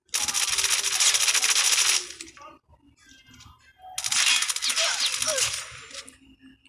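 Sniper rifle shots in a Call of Duty Mobile sniper-only duel: two loud, dense bursts of gunfire crackle, each about two seconds long, separated by a quieter gap with faint clicks and handling noise.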